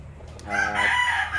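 A Larry Romero Raptor Sweater gamefowl rooster crows once, close and clear, the call rising after a brief soft start and holding steady to the end.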